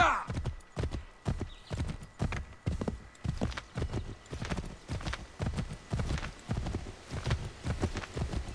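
Steady, rhythmic clip-clop of horse hooves trotting along in Assassin's Creed, close and even, with occasional soft background sounds.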